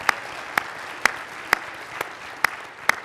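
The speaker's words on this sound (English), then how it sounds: "Could we please acknowledge them with a round of applause for their service to" Sparse, evenly spaced hand claps from a meeting audience in Oregon honoring board members, about seven sharp claps spaced roughly half a second apart over a faint room hum.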